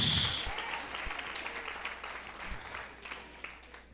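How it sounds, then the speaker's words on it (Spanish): At a church service, a congregation claps and applauds, loud at first and then tapering into scattered claps that fade away. "Dale un aplauso al Señor porque Él vive."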